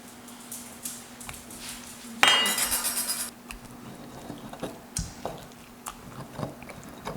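Salsa ingredients are crushed and ground in a stone molcajete, giving repeated wet squishing thuds and gritty scraping at an irregular pace, with one brief louder crunching burst near the middle.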